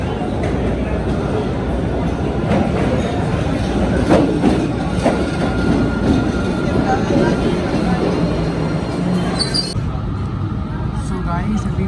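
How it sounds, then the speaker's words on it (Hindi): A Boston subway train pulls into a station, a steady rumble and clatter of rail cars with squealing brakes near the end, while a person talks over the noise. "This is the Subway station, the train will come here."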